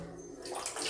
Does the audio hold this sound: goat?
no